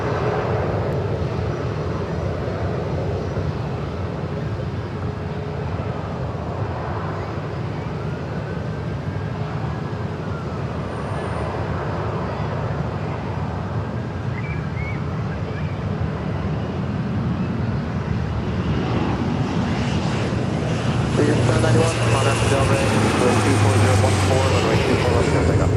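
An American Airlines jet on approach to land on runway 24 right at LAX roars loudly and steadily, its engine noise swelling toward the end, while a voice talks over it.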